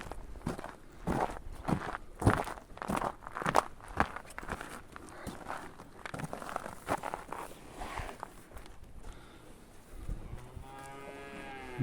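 Bulls moo in low, drawn-out calls near the end, after a stretch of heavy hooves shuffling and thudding close by.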